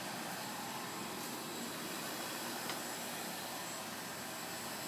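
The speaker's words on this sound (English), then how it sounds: "It's a 2006 air compressor. That's a 3-ton, which is adequate for the home." A 3-ton 2006 home air conditioning compressor runs steadily with a constant broadband whooshing hum, close and unchanging for the whole stretch with no voices.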